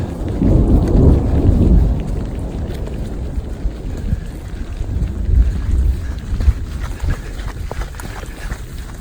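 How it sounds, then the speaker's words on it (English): Heavy rain pours down steadily during a thunderstorm at a mountain campsite, with a loud rolling rumble of nearby thunder at the start and gusting wind buffeting the microphone throughout. "It's pouring down rain."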